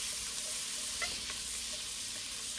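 Minced garlic sizzling in melted butter, a constant bright hiss close up with faint crackles, no voices.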